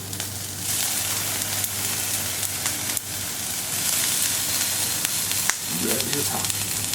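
Bratwursts sizzle and crackle on a hot Camp Chef FTG600 flat top grill, a steady close frying hiss with scattered pops and a low burner hum underneath, and a brief scrape near the end.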